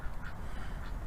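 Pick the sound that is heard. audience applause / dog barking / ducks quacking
ducks quacking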